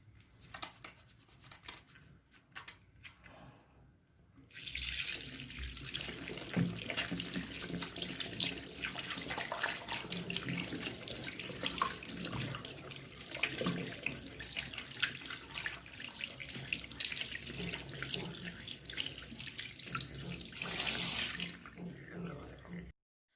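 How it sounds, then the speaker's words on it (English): Hands are washed under a running tap at a sink before a clinical nose, mouth and neck examination, the water starting after a few seconds and pouring steadily and fairly loud to the end, with no talk. "Wash it more clearly and perfectly so as to reduce the chances of any transmission of germs."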